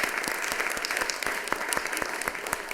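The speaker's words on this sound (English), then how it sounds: "So let's give them another round of applause." Applause from the audience at a city council meeting, a steady round of clapping with distinct individual claps, heard alone without talk.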